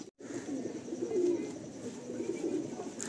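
Andhra pigeons in a loft give steady low cooing that continues without a break, close and moderately loud throughout.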